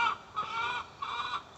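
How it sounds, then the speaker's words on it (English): Backyard chickens cluck in a few short bursts, fairly near and clear with no talking over them. "Chickens."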